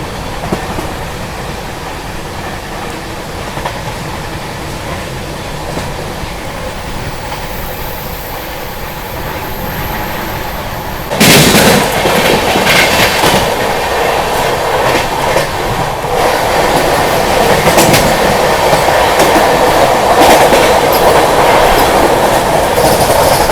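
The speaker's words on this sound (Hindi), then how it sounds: "बगल से क्रॉस हुई मुंबई साईनगर शिरडी वंदे भारत एक्सप्रेस" A Mumbai–Sainagar Shirdi Vande Bharat Express passing alongside on the Kasara Ghat line: steady rail rumble and clickety-clack, then a sudden loud rush as the train crosses close by, continuing dense and noisy to the end, with no voices.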